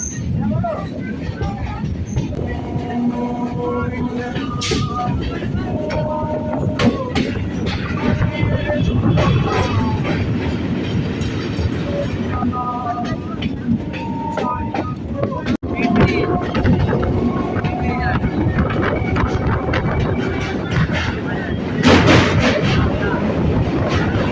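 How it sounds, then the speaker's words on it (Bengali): A local train pulls into New Alipur station on the Sealdah–Budge Budge line, a steady rumble of wheels and carriage noise filling the scene with people talking over it throughout. "শিয়ালদাহ থেকে নয় কিলোমিটার এসে আমাদের ট্রেনটা এখন ঢুকছে নিউ আলিপুর স্টেশনে"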